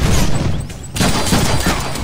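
Rapid gunfire bursts from the Deadpool video game, a dense loud fusillade that drops briefly and then resumes just as heavy, with no speech over it.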